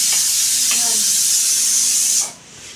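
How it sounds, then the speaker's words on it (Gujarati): A steady, bright sizzle of onions, cinnamon and spices frying in hot oil, loud and close, cutting off suddenly near the end. "હવે વઘારી અંદર"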